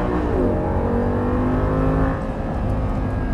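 Audi R8 on a race circuit accelerating hard, its engine note climbing steadily then dropping sharply at a gear change, loud and close with no talk over it.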